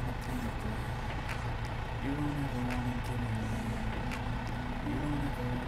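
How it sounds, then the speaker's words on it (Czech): Steady low drone of a MAN TGX Euro 6 truck engine in Euro Truck Simulator 2, a constant hum with slight pitch shifts and faint clicks over it. "Aj tak húči motor, ale si to užijeme pri otvorených oknách."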